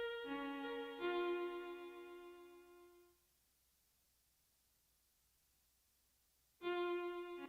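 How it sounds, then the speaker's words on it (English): Synthesized violin tone, downsampled to 8 kHz with reverb for a vintage-style sample, sounds a few bright sustained notes that fade into a long quiet gap before another note swells in at the end; no voices. "Then I made this violin sound that sounds like this"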